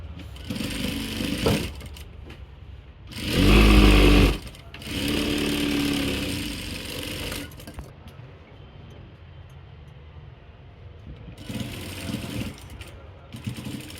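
A sewing machine stitching a cloth bag runs in bursts, one loud rattling stretch and a longer softer run, with pauses and light handling noise between, close up.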